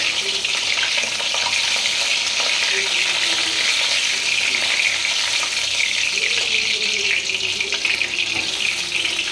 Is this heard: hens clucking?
no